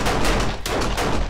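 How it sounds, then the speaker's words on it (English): Gunfire in the video game 7 Days to Die aimed at a barrel, a rapid burst of several loud, sharp shots in quick succession with no voices. "Now shoot the barrel."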